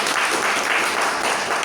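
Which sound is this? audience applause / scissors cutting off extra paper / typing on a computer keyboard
audience applause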